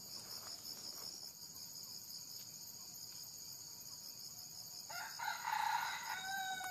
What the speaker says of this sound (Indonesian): Tuh ayam hutan.